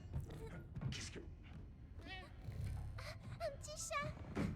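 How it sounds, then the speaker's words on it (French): A small cat meows in the video game Pragmata, a few short high mews mixed into ongoing game sounds and a person talking, fairly faint. "Un petit chat."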